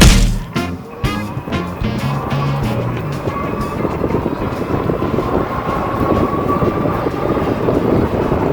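A VTUVIA SF20 electric fat tire folding bike riding fast on mode 5, a steady loud rush of wind and tire roar with a rising motor whine, continuous throughout with no talking.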